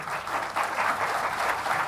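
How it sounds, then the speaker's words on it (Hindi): Audience clapping during a motivational speech, a brisk, continuous burst of many hands applauding at fair volume from start to finish, with slight rhythmic pulsing and no talk over it. "तालियां बजा लीजिए"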